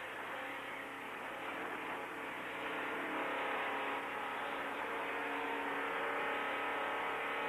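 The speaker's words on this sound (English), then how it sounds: "Remember, you're listening to Dr. Don Tarr speaking from inside his race car as they proceed under the yellow flag" A 1970 race car, number 36 in the Firecracker 400, drones steadily from inside the cabin at moderate speed under the yellow flag, a continuous muffled hum that swells slightly midway.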